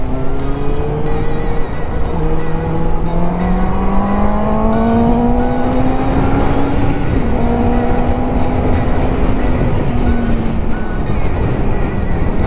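A motorcycle engine revs up through several gears, its pitch climbing then dropping at each shift, loud and close with wind rushing past.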